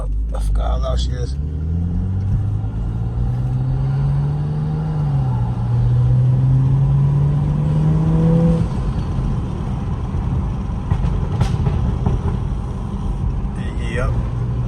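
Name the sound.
car engine revving loudly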